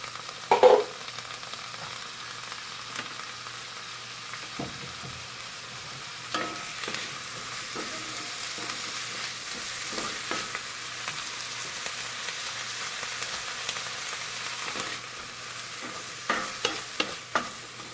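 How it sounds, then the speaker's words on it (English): Onions fry in a pan on the stove with a soft, continuous sizzle, a louder splash of hissing at the start as they go in, then scattered quiet clicks and scrapes of stirring. "So first thing I'm going to do is dump my onions in."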